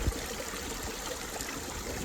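Water at a trail water source on the Appalachian Trail trickles steadily in a soft, even wash, faint and continuous with no voices.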